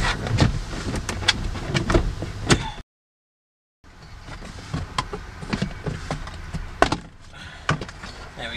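Interior kick panel being yanked out of a Holden Commodore, sharp plastic snaps, cracks and clunks in quick bursts, close up, with a brief silent gap midway before more rattling and pulling.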